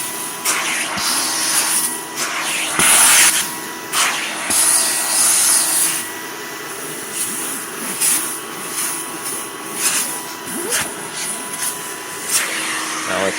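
An Electrolux Olympia One vacuum cleaner roars loudly and steadily as it cleans fabric, its whine surging and dipping as the nozzle is pushed and pulled across the material, with no talking over it.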